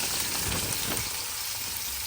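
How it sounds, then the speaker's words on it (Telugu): Chopped bottle gourd frying in hot oil with tempering spices and turmeric: a steady, close, loud sizzle that stays even throughout, with no talking. "ఆయిల్లో తిరగమాత దినుసులు, టర్మరిక్, పసుపు చేసి పెట్టుకున్న సొరకాయ అండి"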